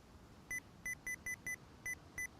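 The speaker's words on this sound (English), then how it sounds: "when I hit the caps lock, it's just beeping" A computer beeping each time the caps lock key is pressed: eight short, clean electronic beeps in an irregular tapping rhythm over a low background hiss, with no talking.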